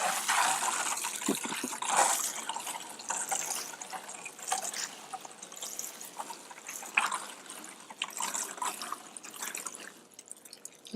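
Water poured onto a compost pile layered with seaweed, carrying effective microorganisms into the heap; a steady splashing trickle runs throughout, close and moderately loud, with no talking.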